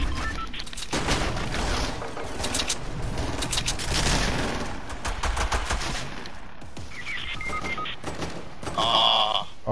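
Rapid bursts of automatic gunfire from a Fortnite match on PS4 crackle almost continuously, with a few short pauses and some electronic game tones near the end.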